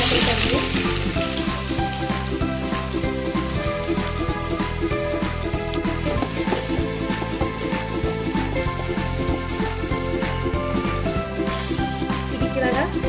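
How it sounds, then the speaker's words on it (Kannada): Chopped onion sizzles and fries loudly in hot oil in a kadai, a dense continuous crackle close up with faint stirring clatter throughout. "ಒಂದು ಬಟ್ಲು ಎಣ್ಣೆ ಬಿಸಿಯಾಗಿದೆ, ಉಳ್ಳಾಗಡ್ಡಿ ಹಾಕೊಳ್ತಾ ಇದ್ದೀನಿ."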